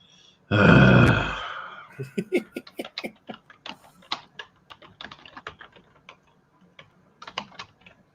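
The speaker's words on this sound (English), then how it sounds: "I'm typing it." Fast, irregular keystrokes on a computer keyboard click close by for about six seconds, right after a brief loud burst of noise at the start.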